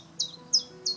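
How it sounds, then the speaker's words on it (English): A chiffchaff gives three short, sharp, high chirps, evenly spaced and clear against a faint quiet background. "And a chiffchaff."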